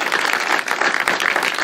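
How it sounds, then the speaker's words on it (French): An audience applauding Suzanne after her talk, a full, continuous patter of many hands clapping at close range. "Merci, Suzanne. On peut l'applaudir."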